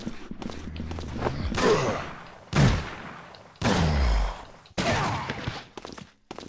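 Several loud, sharp gunshots from a video game fire one after another with short pauses between them, with a voice briefly heard at the start.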